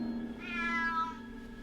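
A cat gives a single clear, rising-and-falling meow over a low steady background hum in a Harry Potter film scene.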